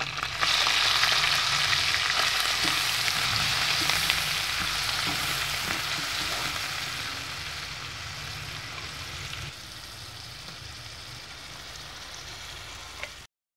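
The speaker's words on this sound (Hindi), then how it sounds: "उसी घी में हम मसाला पिसा हुआ सारा ऐड करेंगे" Ground masala fries in ghee for a fish curry, a loud, dense crackling sizzle that gradually settles a little quieter over several seconds, with no talking.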